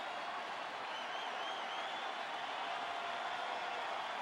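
Large baseball stadium crowd at Dodger Stadium, a sustained, fairly distant roar of cheering and clapping that holds steady without a break, with no talk on top.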